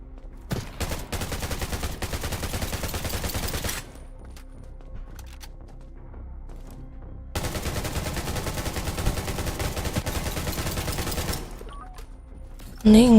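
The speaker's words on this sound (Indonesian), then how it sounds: "tembak dari mana gua?" Long bursts of rapid automatic gunfire in the video game Undawn, two sustained volleys separated by a quieter gap, loud and close with a brief voice at the end.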